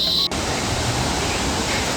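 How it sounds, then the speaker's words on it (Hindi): A mountain waterfall beside a trekking path on the route from Ransi village toward Madhyamaheshwar roars as a steady, dense rush of falling water, loud and continuous after a brief cut at the start. "तो ये झरना बहुत ही सुंदर है।"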